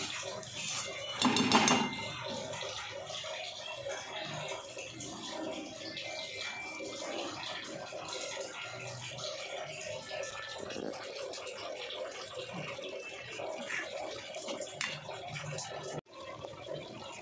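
Dishes are washed while a kitchen is tidied after cooking, with clinking pots, pans and cutlery, splashing and running water, and a louder clatter early on, under a person talking intermittently.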